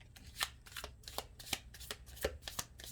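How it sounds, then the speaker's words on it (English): Tarot cards being handled and drawn from a deck make quick, soft riffling and flicking sounds, a rapid series of close, quiet snaps with no voice. "I'm going to pull a couple more cards."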